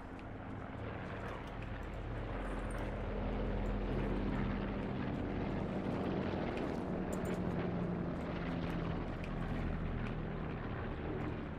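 Aircraft delivering a supply drop in Call of Duty Blackout, a low continuous propeller drone rumbling steadily under game ambience, moderately loud and unbroken throughout.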